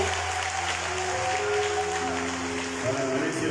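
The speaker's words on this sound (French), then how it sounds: "On acclame pour eux." A church congregation applauds during a Transfiguration celebration at a minor seminary, a steady wash of clapping that holds at an even level throughout with a few voices mixed in.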